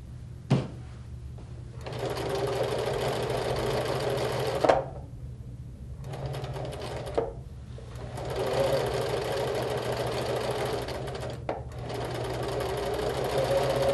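A sewing machine runs steadily while stitching a row of fabric, a continuous close mechanical whir with brief pauses and small clicks between bursts, no talking.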